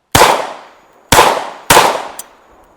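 Three sharp, loud gunshots fired at a steel shooting target, evenly spaced with decaying echoes, alone and close by, with a faint ring after the last.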